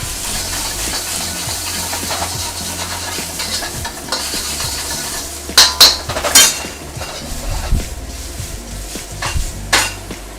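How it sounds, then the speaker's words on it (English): Ginger, garlic and green onion whites stir-frying in a hot pan: a steady sizzle runs underneath, while sharp clinks and scrapes of a utensil against the pan pile up in the second half. "So here's our ginger, garlic, and finally here's the whites of our green onions, a lot of whites."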